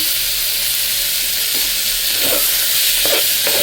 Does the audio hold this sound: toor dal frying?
yes